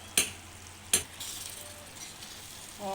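Mixed vegetables with peas are turned over in a pan, two sharp scraping stirs followed by a soft, continuous low sizzle, with a faint clink near the end and no talk.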